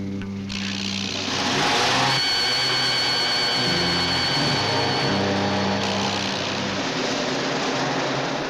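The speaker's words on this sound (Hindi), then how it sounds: "गाड़ी स्टार्ट कर।" A car engine in a 1980 Hindi film scene starts up and runs with a rough, continuous roar that swells as it revs, filling the whole stretch without any talk.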